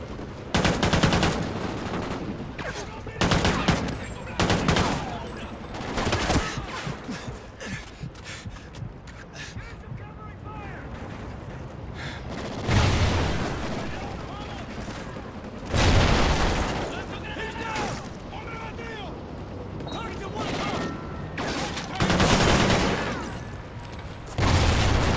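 Sustained covering gunfire in the military shooter Call of Duty Ghosts: dense, loud bursts of automatic weapons and heavy booms come in repeated waves, with shouted voices mixed in.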